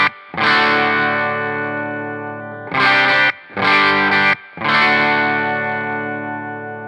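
An electric guitar runs through a Line 6 Vermin distortion pedal, playing four loud, sustained distorted chords with short gaps between them, close and alone.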